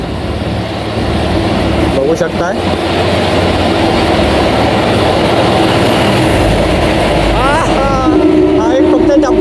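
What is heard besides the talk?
train passing through a railway tunnel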